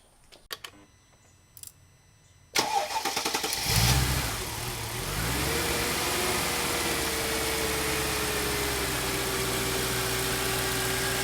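Car engine with freshly powder-coated valve covers cranks and fires after some faint clicks, then settles into a steady, even idle that runs on alone.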